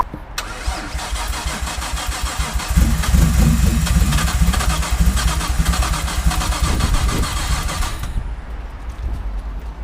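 An RB25-engined Nissan S13 cranks over and fires at about 0.5 seconds, revving loudly from around 2.7 seconds and then settling into a steady rumbling idle. The engine cuts off near 8 seconds, and no one speaks.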